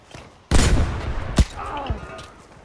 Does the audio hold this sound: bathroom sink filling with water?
no